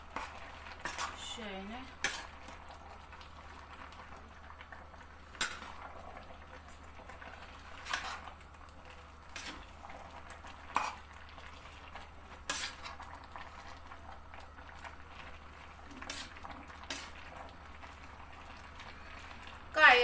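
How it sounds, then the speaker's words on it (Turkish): A metal spoon clatters and scrapes against a pot of boiling green beans being cooked for canning, giving several sharp clinks spread through the stretch over a low steady bubbling, with a brief spoken word. "Tahta kaşıkla tam karıştıramıyordum. Onun için demir kaşığı aldım."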